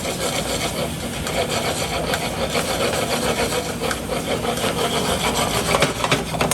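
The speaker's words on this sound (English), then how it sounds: "stirring the pasta constantly" Fettuccine stirred constantly in a pan, a continuous scraping, rubbing swish of utensil against pan with a busy, even texture and no pauses, fairly loud and close.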